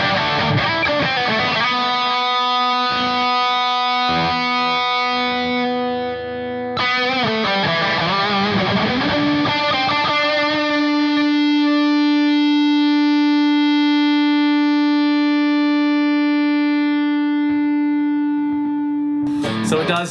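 An electric lead guitar runs through a HeadRush effects unit with a noise filter, playing distorted, echoing phrases that end on a long sustained note. That note rings and slowly fades out, loud and close, with no talking over it.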